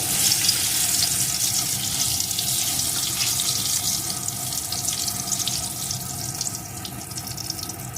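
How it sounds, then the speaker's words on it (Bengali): Two torn dried red chillies frying in hot oil in a pan, a dense continuous crackling sizzle that is close and steady, fading slightly toward the end, with no voices. "লঙ্কাটাকে ভালো করে একটু ভেজে নেব"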